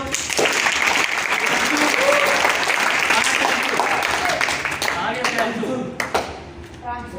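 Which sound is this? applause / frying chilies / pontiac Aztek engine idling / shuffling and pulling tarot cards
applause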